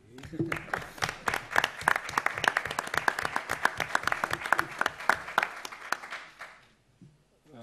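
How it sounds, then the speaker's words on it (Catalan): Scattered applause from a modest audience at a book presentation, individual claps distinct and uneven, swelling briefly then dying out into near silence. "Es pot aplaudir? Sí."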